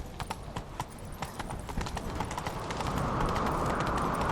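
Hooves of a horse in The Witcher 3: Wild Hunt clatter in a quick galloping rhythm, close and loud, with a rising rush of noise building behind them toward the end.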